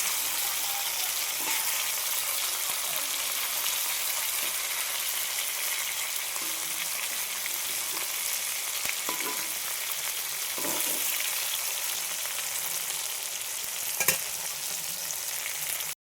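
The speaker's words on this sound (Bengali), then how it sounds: "আর এক পাশ ভেজে নিচ্ছি।" Fish frying in hot oil in a pan while the second side cooks gives a steady, close sizzle with scattered soft clicks and scrapes of stirring throughout, with no voices.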